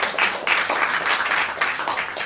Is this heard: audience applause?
yes